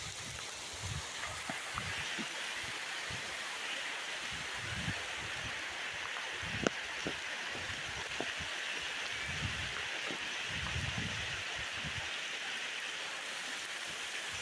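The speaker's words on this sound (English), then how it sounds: "Rain's getting a little hard" Steady rain hisses evenly all around at Garden of the Gods during a rainstorm, with soft patters and occasional drips standing out nearby, no voices.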